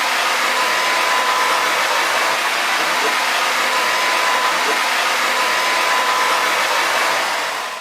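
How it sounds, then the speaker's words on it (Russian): A hair dryer with a diffuser attachment runs on its strongest setting, a loud, steady airy roar that holds for about eight seconds before tapering slightly at the end. "Включаем и волосы одеваем, так скажем, на диффузор и вот так вот сушим."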